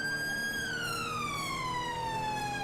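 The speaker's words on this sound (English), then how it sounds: "I want to try and go sirens off from here" A British police car siren in the GTA 5 police mod wails steadily and loudly, its pitch gliding slowly downward as it winds down, with no talk over it.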